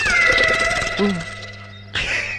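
A cat meows in a short drawn-out call, heard beneath overlapping talking and background noise.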